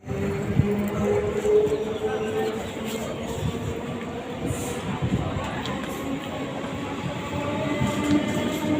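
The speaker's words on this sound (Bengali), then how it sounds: "ডাউনের ট্রেন বেরিয়ে গেল" A down train runs through a station with a steady rumble of rail cars, close and continuous, while voices murmur faintly in the background.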